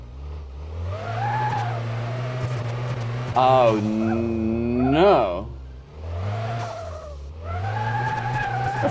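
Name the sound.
car driving and skidding in video game Car Mechanic Simulator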